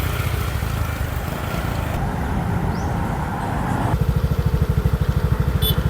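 A rented motor scooter rides along roads in Bohol, its small engine buzzing steadily up close, turning into a sharper, pulsing putter in the last couple of seconds.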